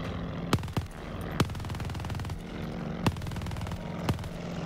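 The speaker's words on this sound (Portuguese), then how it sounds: "Essa torreta atira um pouquinho, para." Continuous rattling gunfire from an automatic turret in Call of Duty: Vanguard, punctuated by several sharper, louder shot bursts spaced irregularly, at moderate volume with no talking.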